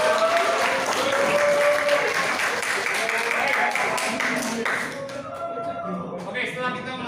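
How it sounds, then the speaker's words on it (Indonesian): Classroom applause from students during a peer coaching lesson: steady, dense clapping from a group for about five seconds, then thinning out, with voices mixed in. "terima kasih tepuk tangan"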